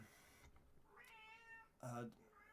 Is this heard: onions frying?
no